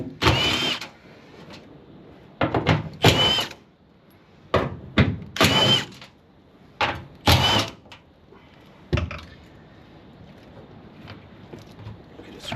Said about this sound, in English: So just removing this rear cover, which the fuel tank's under here.